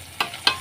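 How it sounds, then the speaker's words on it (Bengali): Fish frying in a pan in a home kitchen gives short bursts of sizzle, three brief crackling spurts over a low steady hiss, close and fairly quiet. "আর এদিকে মাছ ভাজাগুলো হচ্ছে"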